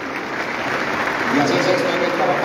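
Crowd applause at a municipal swearing-in ceremony for local delegates, a steady dense roar of clapping with raised voices mixed in, loud and continuous.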